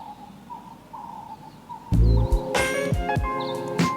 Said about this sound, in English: So I think I have the pigeon coming back in